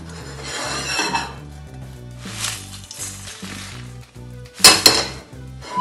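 Dry-roasted red chillies tipped from a pan into a dish: metal utensils scrape and clink against cookware, with a sharp clatter of a spoon on the vessel near the end, close and clear under soft background music.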